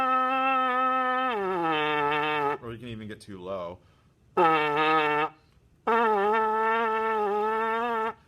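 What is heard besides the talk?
trumpet played with saggy embouchure, unstable pitch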